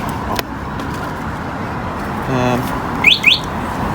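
Two short rising electronic chirps from an Emmo e-bike's anti-theft alarm, close together near the end, preceded by a brief mechanical buzz over a steady background hum.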